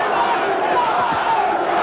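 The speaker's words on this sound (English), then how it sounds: "Crowd now picks up that chant again" A boxing arena crowd at a Bobby Czyz versus Robert Daniels bout chants Bobby in a steady, rolling roar that fills the hall, with an announcer's voice talking over it.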